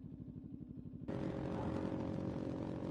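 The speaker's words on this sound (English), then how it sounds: "slip-on exhaust, so giving it that nice barky sound." A 2018 Kawasaki Ninja 400 motorcycle with a slip-on exhaust idles with a rapid, pulsing burble, then the revs jump sharply and it roars on as a loud, steady engine drone while riding.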